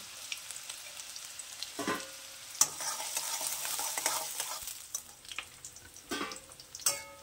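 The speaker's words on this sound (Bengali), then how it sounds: "এবার পেঁয়াজ কুচি আমি তাকে লাল করে ভেজে নেব।" Chopped onion fries in mustard oil with a soft, continuous sizzle, broken by scraping stirs of a spatula against the pan at irregular intervals. The sound is close and no one speaks.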